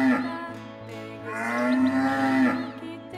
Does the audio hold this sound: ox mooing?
yes